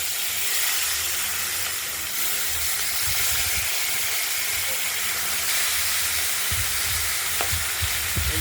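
Pieces of rohu fish fry in hot oil in a wok, a loud continuous sizzle and crackle with occasional sharper spits and light clatters of a utensil.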